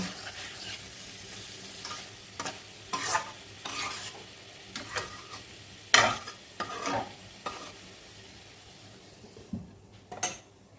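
Soya chunks fry in oil as a utensil stirs and scrapes around the pan, giving a series of sharp clinks and scrapes over a soft, steady sizzle, with no voices.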